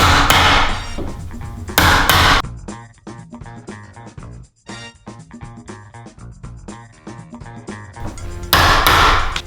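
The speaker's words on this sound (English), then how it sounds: "I do a series of hits and notches like this" Hammer striking a chisel to notch a wooden internal door, loud close whacks at start and end with a rapid series of lighter taps and scraping in between.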